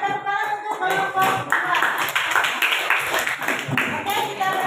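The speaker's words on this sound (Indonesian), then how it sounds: "Oke, beri tepuk tangan untuk kelompok" A group of teachers claps for a presenting group during a coaching session, light scattered clapping with a faint tonal background as someone speaks over it.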